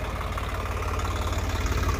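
Swaraj 855 4x4 tractor diesel engine idling steadily and close by, with a deep, even low rumble and fine rhythmic knocking throughout.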